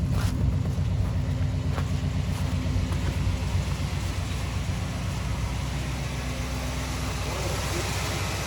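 Car engine running steadily after a motor swap, a loud continuous low rumble with a slightly uneven, lumpy idle throughout.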